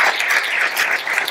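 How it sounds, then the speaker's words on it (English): A brief burst of steady audience applause for artists at a talk on arts and public policy, loud and continuous across the short stretch. "So let's give them another round of applause."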